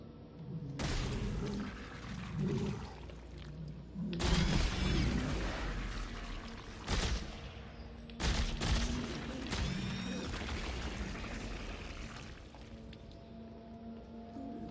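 Assault rifle fire in Dead Space 3 comes as a few loud, sharp bursts spaced several seconds apart, each ringing out over a continuous low hum of ambience.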